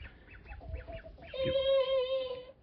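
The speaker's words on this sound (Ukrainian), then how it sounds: "це вже кукурікають молоді мої півні голошейки" Young naked-neck roosters: a few short, rising chirpy calls, then one strained, drawn-out adolescent crow heard near and fairly faint, with no talking.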